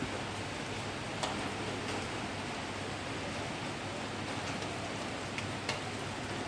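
Pouring rain falls through the night during the temple chariot procession of the Chidambaram Thiruvathirai festival, a dense, even hiss with faint occasional ticks and no voices.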